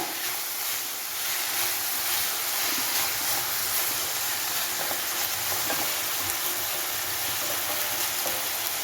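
Bitter gourd and potato stir-fry sizzles steadily in a hot pan, with faint scraping as it is stirred, a constant close frying hiss throughout with no voices.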